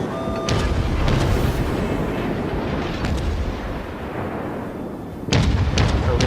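Heavy warship naval guns fire a broadside salvo in World of Warships, a deep booming roar that rumbles on, followed by a second loud burst of shots near the end.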